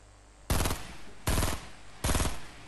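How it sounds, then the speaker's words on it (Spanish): Three loud, sharp bursts of rapid automatic gunfire in the Fortnite video game, each rattling for about a quarter second, spaced evenly apart over quiet background. "Le estoy disparando al chaval"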